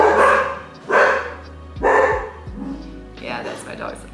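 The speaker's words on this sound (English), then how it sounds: "Yeah, that's my dog." A pet dog barks loudly at close range, about three sharp barks spaced roughly a second apart, followed by quieter yips indoors.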